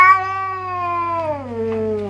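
A cat meows in one long, drawn-out cry lasting about two seconds, loud and close, its pitch sliding downward near the end, over a steady low hum.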